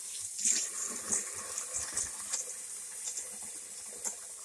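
Hot water poured from a pail into a dishwasher during a repair test splashes and gurgles unevenly, with soft sloshing pulses against a steady watery hiss at moderate volume.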